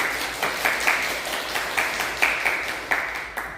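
A church congregation applauds during a Sunday service to welcome a newcomer. The clapping is moderate and steady for a few seconds, with sharper bursts recurring through it and no talk over it.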